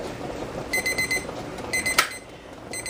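A kitchen timer beeps in short, repeated bursts of rapid electronic chirps, marking the end of a boiling water bath for canning jelly, fairly soft against a quiet background hiss.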